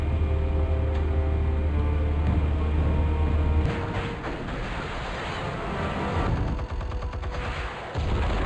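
Gunfire and explosions in the Batman Telltale Series video game, a dense loud barrage of shots and blasts with a heavy low rumble that drops away partway through, then continued crackling bursts.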